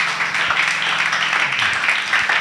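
A church congregation applauds in a dense, steady wash of clapping that fills the room, with some low voices mixed underneath.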